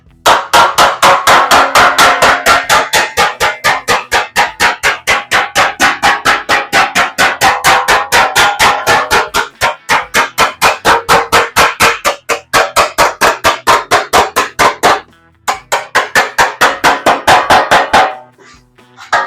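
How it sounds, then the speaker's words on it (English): Rapid, regular metallic hammer strikes ring out close and loud as sheet metal on a 1937 Ford Coupe is worked with a hammer and dolly, pausing briefly a few times before resuming. "Just using the hammer and dolly, I'm going to roll the ends in"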